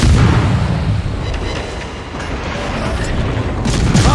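Explosions aboard a burning ship in a video game, a dense rumbling roar of booms and blasts that stays loud and continuous throughout, with no talking.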